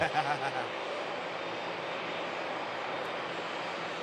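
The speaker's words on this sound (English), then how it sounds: "And here goes the Gulfstream departing." A Gulfstream business jet departs Manchester Airport, a steady broadband engine roar at some distance holding for about four seconds, with brief voice sounds at the very start.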